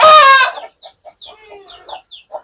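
A loud Ayam Cemani rooster call opens, then trails into scattered soft clucks and chirps from nearby chickens.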